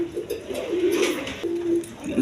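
Quality double-barred pigeons at a breeding farm give low throaty coos, near and steady, in two long drawn-out phrases separated by a short pause.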